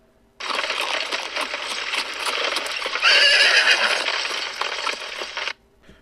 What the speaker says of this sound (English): the horses ran off, pulling the coach with it before he could take off his luggage